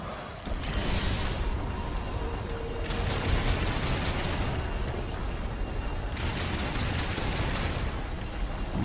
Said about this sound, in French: essayons quand même avec le pistolet